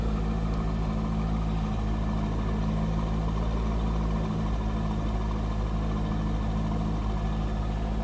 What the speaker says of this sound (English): Sounds like a nice stock C5 Corvette